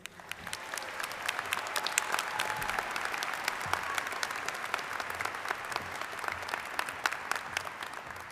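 Steady applause from a commencement audience greeting the student speaker, Sergeant Major Alan E. Thomas, Jr., at the 2025 Trident graduation ceremony, many hands clapping at moderate loudness, with sharp individual claps rising out of the crowd.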